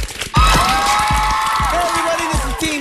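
A studio audience on a teen television talk show bursts into applause and cheering, a loud, dense wash of clapping over music at the break before a bonus round.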